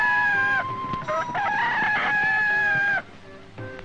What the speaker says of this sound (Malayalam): അയ്യോ കോഴി കൂവി, ഞാൻ പോട്ടെ.